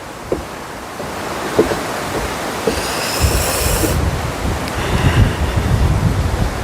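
Steady wash of surf on a beach mixed with gusty wind rumble, waves building louder in the second half with no voices.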